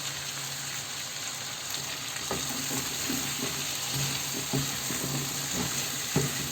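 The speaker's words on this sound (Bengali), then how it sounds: "মশলার সাথে এটাকে একটু ভেজে নেব" Cut taro fried with spices in a pan for a hilsa fish curry makes a steady low sizzle, with soft scrapes and taps of stirring that pick up midway.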